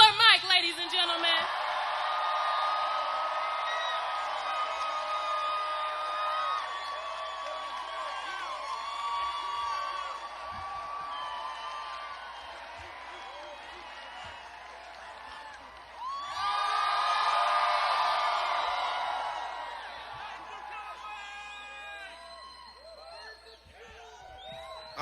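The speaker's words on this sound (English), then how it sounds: "give a warm round of applause to Killer Mike" A large crowd at Atlanta's Fox Theatre erupts in sustained cheering, whooping and applause for Killer Mike, a dense roar that dips and then swells again before fading.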